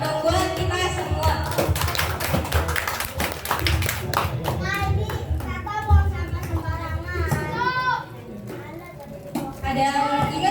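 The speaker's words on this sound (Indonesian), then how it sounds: "Oke, kasih tepuk tangan dong buat kita semua." A classroom of children claps together in a broad, sustained burst of applause mixed with excited young voices and chatter, fading somewhat near the end before picking up again briefly.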